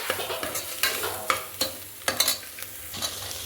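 Grains fry in a hot pan while being stirred, giving a steady sizzle broken by repeated scraping strokes of the spoon, close and clear with no voices.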